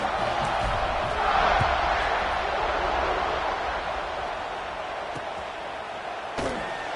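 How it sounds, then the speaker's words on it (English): A football stadium crowd at a college game between Georgia and Oregon roars and cheers in a broad, sustained wash of noise, with a sharp thump near the end. "this crowd is feeling themselves after that last drive"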